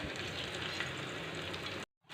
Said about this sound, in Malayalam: ചട്ടി ചൂടായിട്ടുണ്ട് ഞാനിപ്പോൾ ദാ കുറച്ച് എണ്ണ ഒഴിച്ചു കൊടുക്കുവാണ് അങ്ങനെ നമ്മുടെ എണ്ണയൊക്കെ ചൂടായിട്ടുണ്ട് അപ്പോൾ ദാ പാവക്ക ഓരോന്നായിട്ട് ഇട്ട് കൊടുക്കാം